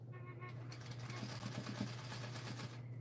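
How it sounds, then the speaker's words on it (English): A sewing machine running steadily while stitching off the edge of knit fabric, a close, continuous mechanical whir and rapid needle chatter with a low hum underneath. "You hear that sound because I start stitching off the fabric."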